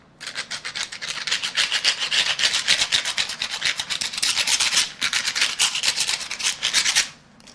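Close, rhythmic scratching as a tattoo needle is rubbed back and forth to take off a burr, steady repeated strokes with a brief pause midway, no talking.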